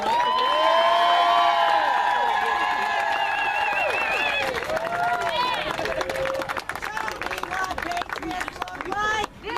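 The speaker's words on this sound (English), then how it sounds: "Can you guys give them one more round of applause?" A political rally crowd for a congressional campaign event roars with cheering, whoops and applause, loud and continuous throughout with shouting voices blending into the din.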